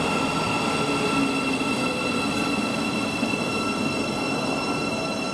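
A Thameslink train on the Bedford to Brighton service pulls into Luton Airport Parkway station, with a steady, close rumble of wheels on rail and a thin metallic squeal running throughout. No one speaks.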